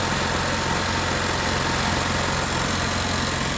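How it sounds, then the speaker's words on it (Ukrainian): A petrol generator engine runs steadily nearby, a continuous loud mechanical drone with no pauses or speech; the unit is one whose revs surge and fail to drop. "О! Генератор работает."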